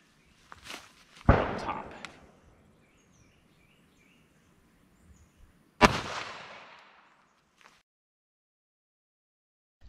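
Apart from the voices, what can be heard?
Ruger LCP Max pistol firing .380 Winchester hollow point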